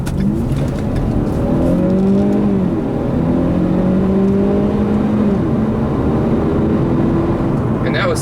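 A 2013 Ford Fusion Titanium with its stock exhaust accelerating hard uphill, the engine note climbing steadily through gears in a loud, sustained in-cabin drone with faint speech-like murmur beneath.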